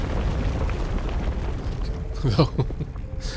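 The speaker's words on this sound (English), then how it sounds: "It will always wait until the very last moment to explode" An explosion goes off near a portal in the Kingdom Two Crowns video game, a dull rumbling burst over ongoing game noise, followed by a few short thuds near the end.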